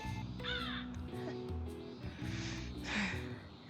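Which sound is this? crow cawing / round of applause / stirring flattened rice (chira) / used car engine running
crow cawing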